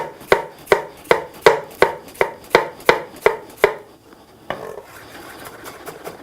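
An onion is chopped on a board with about ten loud, evenly spaced knife strikes, followed by a pause and softer scraping and slicing near the end.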